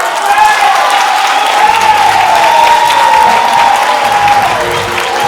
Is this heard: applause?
yes